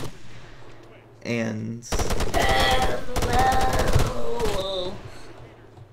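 Bursts of automatic gunfire from soldiers shooting in the military video game Arma 3, loud and rapid with dense repeated cracks, preceded by a brief voice and some background game noise.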